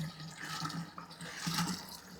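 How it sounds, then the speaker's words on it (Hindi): Water is poured steadily into a container to fill it, about eight litres of water added to a pot holding an apple tree mix; a continuous close splashing and gurgling with no talk. "पानी डालेंगे, भरने वाले हैं।"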